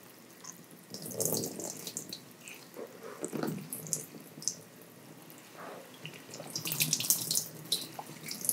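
Running water rinses a person's scalp after shampoo in a close, intimate wash setting, the stream splashing in uneven surges and pauses with no talking.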